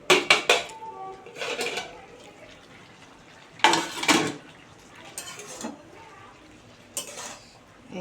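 A lid is lifted off a pot of prawn posto with sharp metallic clinks and clatters, followed by a few more scattered pot and utensil knocks, close and fairly loud.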